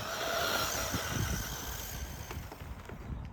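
A Team Associated Masami 91 Worlds electric RC car runs continuously, a steady whirring motor with broadband rolling noise, fairly close and even in level, fading slightly toward the end.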